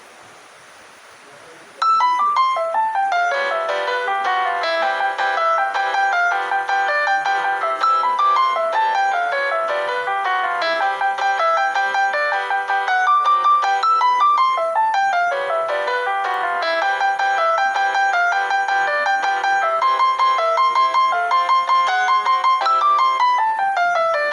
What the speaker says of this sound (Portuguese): A classificação dela é tango brasileiro que mistura elementos do erudito popular.